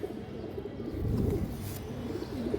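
Several fancy pigeons coo together in a loft, a steady low warbling murmur rising and falling close by throughout, with no talking.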